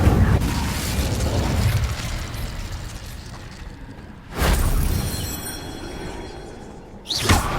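A fire spell cast in Hogwarts Legacy, loud whooshing bursts with a booming, crackling flare-up, repeated in a few distinct blasts over a dense game soundscape.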